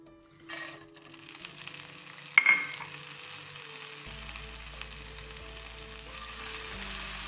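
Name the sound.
dried shrimp dry-roasting in a pan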